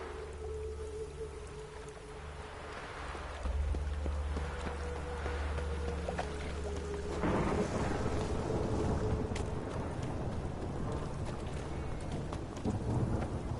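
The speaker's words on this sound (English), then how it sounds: "And it's raining again." Steady rain pours in a thunderstorm in the video game The Witcher 3, with low rumbles of thunder rolling underneath; the downpour thickens partway through and stays fairly soft and constant, without speech.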